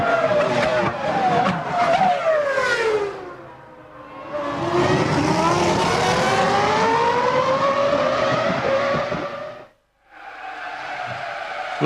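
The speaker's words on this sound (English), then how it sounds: "this is Felipe Massa blowing up on the start-finish line. That's a Ferrari engine" A Ferrari Formula 1 engine fails on the start-finish line at the 2002 Belgian Grand Prix at Spa-Francorchamps, a loud, sustained high-pitched engine wail that rises and falls, cuts out briefly, then returns.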